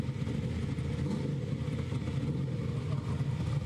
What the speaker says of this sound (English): Car is running right now.